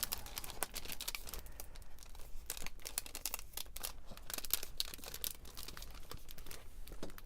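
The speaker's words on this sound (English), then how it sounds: "I should be cutting this with my no stick scissors instead of these." Ordinary scissors snip and crinkle through a large paper junk mail envelope with a plastic window, a busy run of close, crisp cutting and rustling with no talk.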